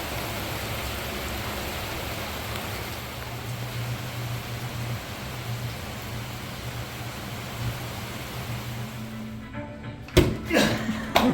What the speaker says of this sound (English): it starts raining again.